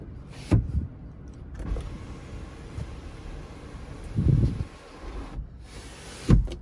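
Motorized sunroof on a Kia Seltos HTX iVT whirs in short separate runs inside a quiet cabin, with faint clicks of the control between them and no voices.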